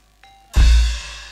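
A small gong rings out during a Sundanese sandiwara folk theatre show, one sharp loud strike after a faint tinkle, then a bright metallic ring that slowly decays with no voices over it.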